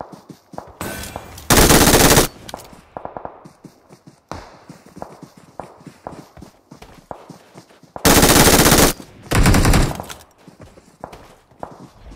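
Gunfire rings out in PUBG Mobile, with two loud bursts of rapid automatic fire standing apart from quieter footsteps, clatter and scattered distant shots between them.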